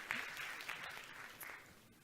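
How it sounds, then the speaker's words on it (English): An audience at a workshop claps in brief, faint applause, a short burst of scattered clapping that trails off within two seconds. "Can we get a hand of applause for this?"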